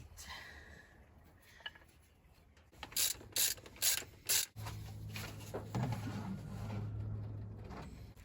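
A hand ratchet clicks in four short, loud bursts while new spark plugs go into a 1977 Chevrolet Silverado, between quieter workshop rustling and handling noise, with no talking.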